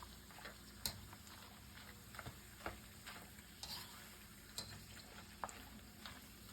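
Cassava chips frying in hot oil, a soft steady sizzle with scattered sharp pops and light clicks of a utensil stirring, close and fairly quiet.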